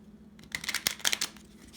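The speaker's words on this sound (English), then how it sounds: "But it doesn't really matter if you shuffle it any other way." A Lenormand deck of cards being shuffled by hand, a brief flurry of crisp riffling flicks lasting about a second, close and fairly quiet.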